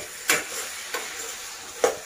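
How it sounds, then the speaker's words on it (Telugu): Drumstick and mango sambar is stirred in a pot, with three distinct scraping strokes spaced apart over a steady low background. "మళ్ళీ ఒకసారి కలుపుకొని"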